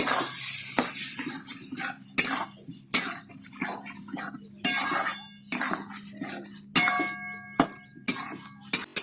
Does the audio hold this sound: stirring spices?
yes